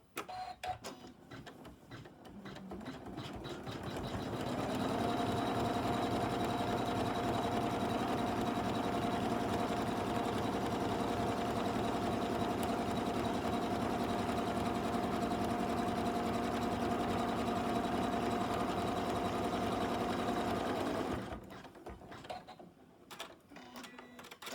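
An embroidery machine stitches fabric held in a hoop for an in-the-hoop tissue case, a steady, loud, close mechanical whirring with a rapid needle rhythm that runs for most of the clip. Quieter handling noises come before and after.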